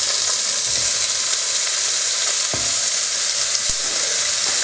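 Onions hiss in a hot pan with a constant bright sizzle, crossed by a few soft knocks of stirring, and no voices.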